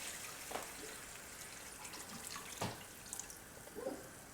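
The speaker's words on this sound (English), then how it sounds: "You take the beef stock, pour that in." Beef stock is poured into a pan for beef Wellington, a quiet liquid splashing and trickling with a few soft drips, faint and close, with no voices.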